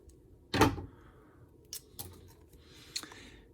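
Cutters snip through the excess length of a plastic zip tie during a Wampa toy restoration, giving one sharp, close click followed by a few faint small clicks and rustles.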